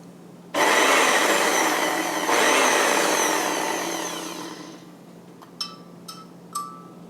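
A blender whirs loudly while pulsing herbs into pesto, one long grinding run that fades out, followed by a few brief sharp clicks and clanks, close by with no talking.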